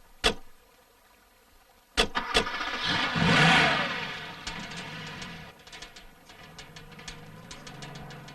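A car's engine starts, then revs and drives slowly across a bridge, a mid-pitched rumble swelling with a whooshing pass before settling into a quieter steady hum, marked by a few sharp clicks.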